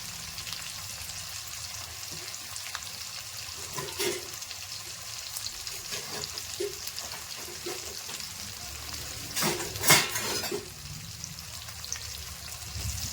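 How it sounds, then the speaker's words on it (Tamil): Small onions sauté in a wide kadai for a lake fish curry, a soft continuous sizzle with occasional stirring scrapes and a louder clatter near the end. "நல்லா வதக்கிடுங்க சின்ன வெங்காயம் அவ்வளோ டேஸ்ட்டாக இருக்கும் மீன் குழம்புக்கு"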